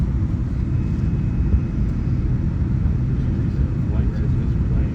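Inside the cabin of an Alaska Airlines Boeing 787-9 Dreamliner leaving Seattle, the engines give a loud, steady, low roar that fills the whole stretch without letup.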